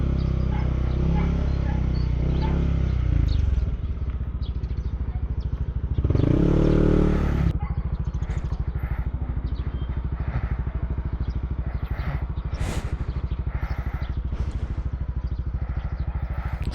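A Yamaha Aerox scooter engine, on a bike that had fallen over, idles close by with a steady rapid putter, surges into a brief loud rev, then settles back to a chugging idle with light clatter.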